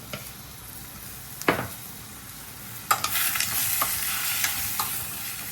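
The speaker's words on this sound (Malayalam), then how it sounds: "കുറച്ച് വെളിച്ചെണ്ണ ഒഴിച്ച് ഇതൊന്ന് വാട്ടിയെടുക്കണം" Dried prawns with coriander powder sautéing in coconut oil give a steady close sizzle, broken by a few sharp utensil scrapes and clatters as the pan is stirred, with no voices.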